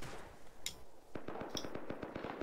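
Gunshots in the video game Rust: a single crack, then a fast string of roughly a dozen sharp shots in quick succession, moderately loud.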